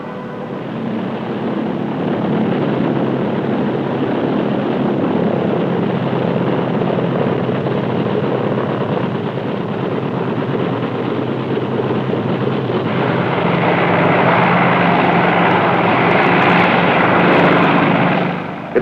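Aircraft flying around an aircraft carrier at sea give a loud, continuous engine and propeller roar that holds steady for nearly twenty seconds and swells slightly toward the end.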